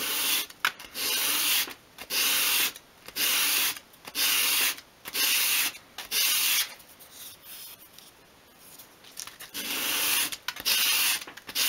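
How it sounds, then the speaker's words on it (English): Sandpaper rasps against the edge of a small wooden 1/12-scale cabinet top being beveled, about ten close, even strokes in a regular back-and-forth rhythm, each a dry scratchy sweep separated by brief pauses. "hold the piece against your sandpaper at a 45 degree angle and just sweep it"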